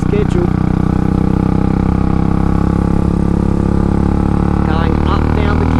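Royal Enfield Classic 500 motorcycle engine running steadily at high revs with a constant droning thump, loud and close, with someone talking over the engine.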